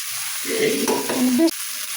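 Mutton nehari masala sautéing in a pan, a short burst of close sizzling and stirring scrapes that stops abruptly near the end, with no talk.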